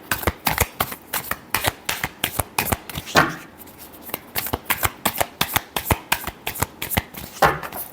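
A deck of tarot cards is riffled and shuffled by hand in a quick, crisp flurry of slaps and rustles, close and loud, with a short pause midway before the shuffling resumes.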